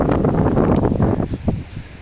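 Strong wind rushes and buffets the microphone in a field of soybeans and buckwheat, with some rustling, easing slightly toward the end; no speech.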